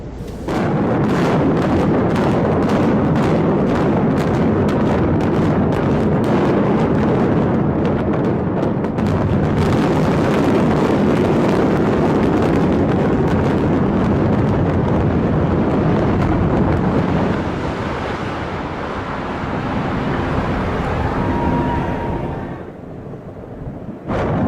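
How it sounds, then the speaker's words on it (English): Explosives bringing down a building in a controlled demolition: a sustained, loud, rumbling roar of blasts and collapse lasting about twenty seconds before easing off, with no voices. "a controlled demolition is the demolition of a structure or building by means of explosives or intentional structure failure in a controlled environment"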